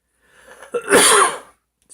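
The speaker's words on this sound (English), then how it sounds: "Excuse me, I'm coughing there." A person gives a single harsh cough with a throaty clearing burst, close and loud, set against near silence.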